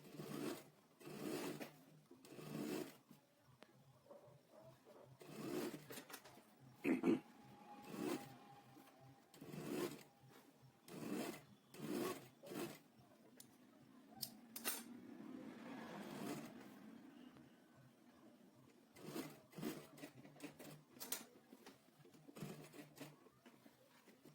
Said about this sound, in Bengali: এবার ঠিক এইভাবে সেলাই দিয়ে নিতে হবে।